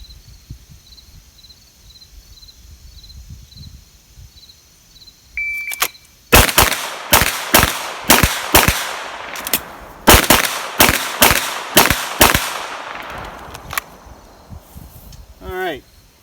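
Pistol fired at 25 yards in a drill of paired shots, a beep followed by sharp close cracks in quick pairs with brief gaps, loud against quiet outdoor background with insects.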